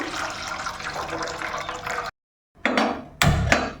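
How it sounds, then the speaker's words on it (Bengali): Water pouring into a pot of washed red lentils before boiling, a steady splashing rush up close that breaks off into a brief silence, then returns in two shorter gushes. "এখন এর মধ্যে দিয়ে দেব জল, ডালটা সিদ্ধ হওয়ার জন্য।"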